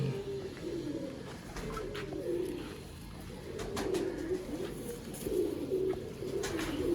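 Pigeons coo repeatedly in soft, rolling phrases, several birds overlapping at close range, with faint chirps in the background.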